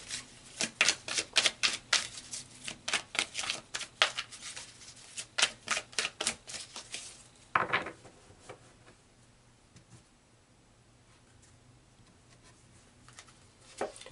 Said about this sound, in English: So let's pull some cards to see how this energy is going to play out